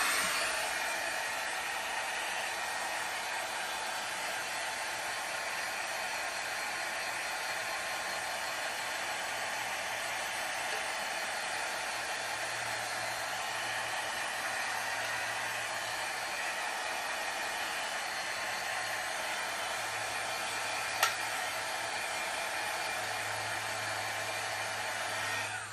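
A hair dryer blowing on gesso freshly painted inside a mint tin, giving a steady, close whooshing roar that holds unbroken for the whole stretch, with no talking.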